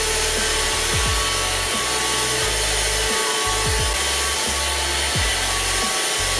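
Easine F100 powerful vacuum cleaner running steadily and loudly while sucking up small decorative beads, with a constant broadband roar and a low motor hum shifting pitch at intervals as the nozzle moves, no voices.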